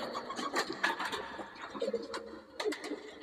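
Pigeons coo nearby in soft, throaty, repeated calls, with a few brief rustles and clicks mixed in against a quiet background.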